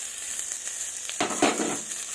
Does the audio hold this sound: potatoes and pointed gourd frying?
yes